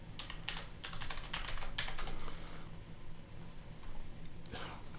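Rapid, steady keystrokes as a password is typed on a computer keyboard, close and continuous, with faint background voice at times.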